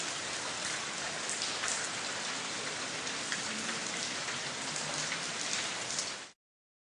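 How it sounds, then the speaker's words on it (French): Steady, heavy rain pours down in a continuous hiss of drops for several seconds, then cuts off abruptly, from the video game Adibou: Aventure. "La pluie."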